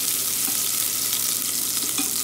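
Minced garlic and shallots sizzling in about two tablespoons of cooking oil while being stirred, a steady close hiss of frying with occasional soft scrapes, no talking.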